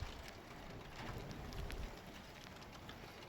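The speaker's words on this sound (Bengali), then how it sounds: "আজকে সারাদিনই বৃষ্টি আছে।" Rain falls outside on a windy, wet day in Germany, heard as a faint, steady patter and wash with a slight swell midway.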